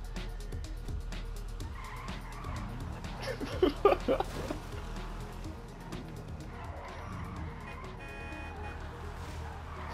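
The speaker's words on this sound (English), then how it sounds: "See, that's a drift right there." A car drifts in Grand Theft Auto V, tires squealing in a sharp burst midway over a steady engine drone, with voices talking around it.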